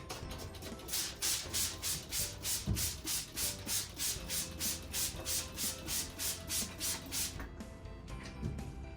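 A screen-printing screen scrubbed with textile ink remover, a brush rasping in quick, even back-and-forth strokes, about two a second, close and steady before stopping near the end.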